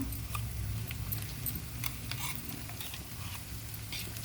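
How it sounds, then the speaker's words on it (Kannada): A paste of ground garlic, ginger, curry leaves and cumin frying in a pan, giving a steady low sizzle with faint scraping and ticks of stirring throughout, no voices. "ಈಗ ರುಬ್ಬಿರೋ ಪೇಸ್ಟ್ ಹಾಕ್ತಾ ಇದ್ದೀನಿ"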